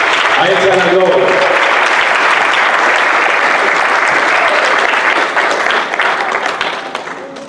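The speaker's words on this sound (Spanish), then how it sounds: "Dale un aplauso fuerte a Jesús." A church congregation gives loud, sustained applause during a sermon, dense clapping that holds strong for several seconds before tapering off at the end.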